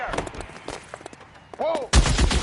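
Gunfire erupts in a shootout in the video game L.A. Noire on PS4, a burst of loud sharp shots at the end following quieter shots and a brief whistling sweep, with voices around it.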